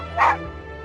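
A dog in Genshin Impact gives one short, sharp bark that breaks into a whimpering yelp. It sounds close and clear, with a low background tone underneath.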